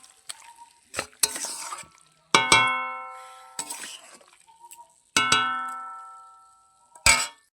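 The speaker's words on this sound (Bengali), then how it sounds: "মাংসটা দিয়ে দেবো। ভালো করে আমি ঢাকা দিয়ে দিয়ে কষাবো।" Meat being stirred and sautéed in a covered pan, with sharp metallic scrapes and clangs of the spoon against the pan between soft sizzling, in several separate bursts.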